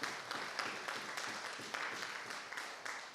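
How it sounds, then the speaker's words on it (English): Dense applause fills the room at the Southern Parks and Markets 2019 annual awards dinner. The crowd claps steadily for a few seconds, a little distant and fairly soft. "Give them a big, big round of applause for this."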